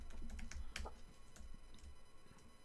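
Typing a command on a computer keyboard at a terminal, a quick run of close, soft key clicks and taps over a couple of seconds with no talking.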